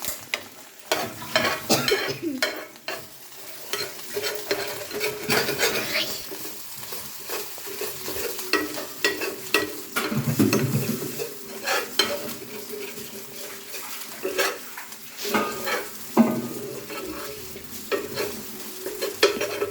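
Scrambled egg frying and being stirred in a pan, with a steady sizzle and repeated scraping and clinking of a utensil against the pan, fairly close, with no talking.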